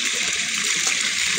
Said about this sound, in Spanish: Aquí tenemos una fuente también, aquí en la entrada principal, de agua para que la gente venga y lleve su agua.